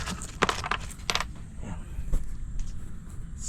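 Coins set down at a Petron petrol station, a few sharp metallic clinks and jingles in quick succession near the start, then quieter handling over low background rumble, with no talk.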